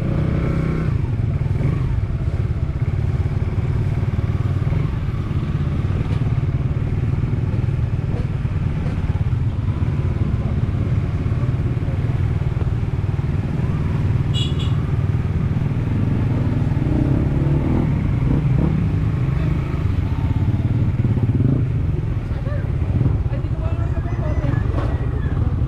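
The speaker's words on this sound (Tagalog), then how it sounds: "Sakayan mo na ang motor mo." A motorcycle engine runs loud and close with steady rough rumble and some clatter, revving as it pulls off, while people talk casually nearby.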